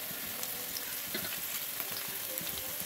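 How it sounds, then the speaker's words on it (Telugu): Onion fries in hot oil in a pan, a continuous crackling sizzle, close and fairly quiet, with no voices. "కొంచెం ఆనియన్ వేసి ఫ్రై చేసుకోవాలి"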